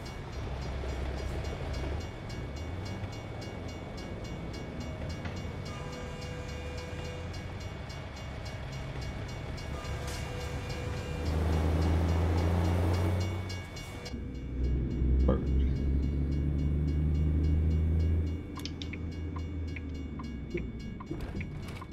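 A long freight train passing in American Truck Simulator in Alaska, a continuous heavy rumble with clattering wagons and deep low throbbing that swells and rolls on throughout.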